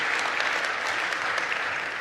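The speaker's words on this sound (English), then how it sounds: "So let's give him a round of applause." Conference audience at an FII Institute event gives a round of applause, dense and steady clapping from a large crowd for the whole short stretch, with no voice over it.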